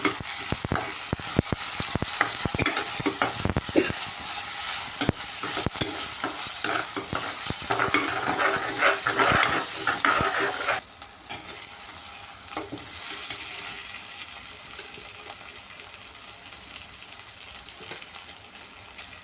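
Tomatoes sautéing in a pan with ginger, curry leaves and green chilli for rasam, a steady close sizzle with stirring scrapes that drops to a quieter simmer near the end.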